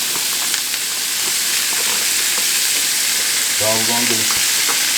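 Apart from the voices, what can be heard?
sautéing vegetables in a pan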